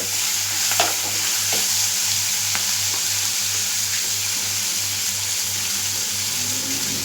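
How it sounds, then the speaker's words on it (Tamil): Food sautés and fries steadily in a pan on the stove, with a continuous loud sizzle and occasional stirring scrapes throughout, alongside a low steady hum in the background and no talking. "இது நல்லா வதங்கி வரட்டும்."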